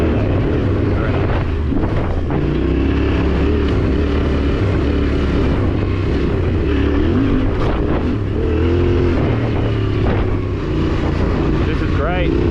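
A Yamaha T7 adventure motorcycle rides an easy dirt track with some elevation changes, its engine a steady rumble under heavy wind buffeting, with the rider talking over it.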